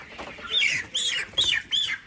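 Chickens being handled at a poultry farm squawk and cluck in short, high, anxious bursts, four distinct nearby calls in quick succession.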